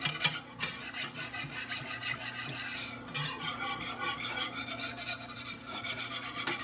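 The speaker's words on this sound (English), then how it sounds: "I'm going to stir really, really good." A spoon scraping and stirring chicken broth in a pot, a close rhythmic rubbing swish repeated steadily with no talk.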